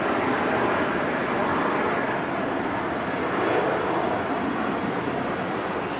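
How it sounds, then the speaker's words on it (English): A Jet2 Boeing 737 takes off at Manchester Airport in the evening, a loud steady roar of jet engines that holds without a break from start to end. "Usually use a lot of runway,"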